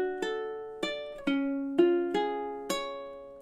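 A ukulele plays the opening measure of a song: six clear plucked notes in a steady, slightly swung rhythm, each ringing and fading before the next, close and alone.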